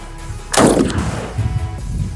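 A McCoy PAS pump shotgun fires one old shell in a single loud, close blast that rolls into a long echoing tail outdoors.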